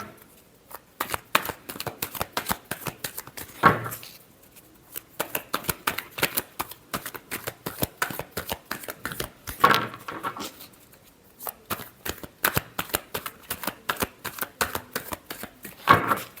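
Tarot cards being shuffled by hand, heard as rapid crisp riffling bursts in several rounds separated by short pauses, with sharper snaps as the deck is squared, close and clear with no speech.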